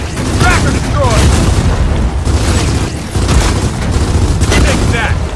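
Heavy explosion as a tracker is destroyed in the Gears of War 4 video game: loud, dense booming and crackling bursts over a rumbling low end, with a sharp blast near the middle amid continuous battle noise and game voices.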